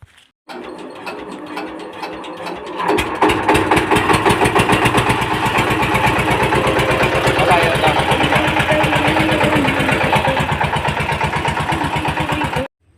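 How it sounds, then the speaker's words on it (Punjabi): A generator engine fires up and settles into a loud, close, rapidly pulsing mechanical chug that holds steady for about ten seconds before stopping. "ਹੁਣ ਪਾ ਦਈਏ ਜਨਰੇਟਰ ਨੂੰ ਗੇੜਾ"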